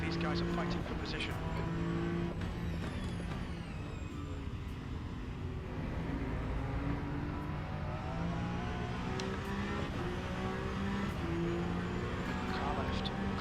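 Race cars in the Le Mans Ultimate sim racing game drone and rev continuously, engines rising and falling as slower cars are passed, with someone talking over the steady engine noise throughout.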